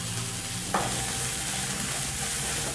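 Chopped carrots tossed into a pan of onions frying with cumin seeds, a steady close sizzle with one brief clatter of the vegetables landing and some stirring, no voices.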